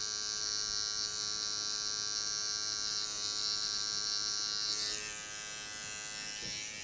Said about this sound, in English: I'm not wiggling the clipper, so we have a nice, thin, straight line